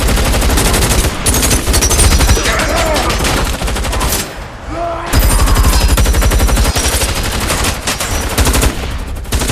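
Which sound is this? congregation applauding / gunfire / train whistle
gunfire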